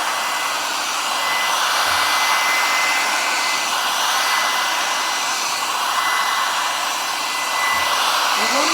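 A heat gun blows steadily as it shrinks plastic wrap around a gift basket, a continuous loud whooshing hiss held close for the whole stretch with no talk.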